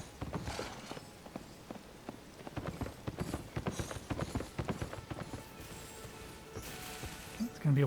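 Hooves of a rider's horse approaching in Elden Ring, a rhythmic clip-clop that grows louder and closer over several seconds, with faint game ambience beneath.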